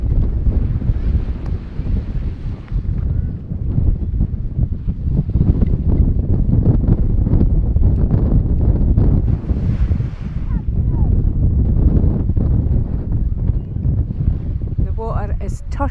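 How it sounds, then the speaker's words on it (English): Strong wind buffets the microphone at Bosta Beach on the Isle of Lewis in the Outer Hebrides, a steady loud rushing roar that runs throughout, with surf faintly beneath. "Still a bit windy"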